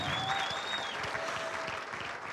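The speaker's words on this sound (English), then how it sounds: "Let's give a big round of applause for all of our contestants" A charity gala crowd in black and white gives the dance contestants a round of applause, steady many-handed clapping heard at moderate distance and fairly quiet throughout.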